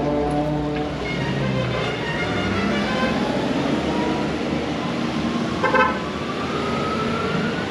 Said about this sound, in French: C'est les Caraïbes, tout le monde klaxonne.